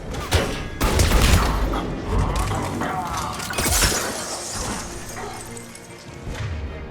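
Gunfire at a Centurion in Mass Effect 3: a sharp shattering crack followed by bursts of shots and rumbling impacts, loud and close, fading into a washy, noisy tail.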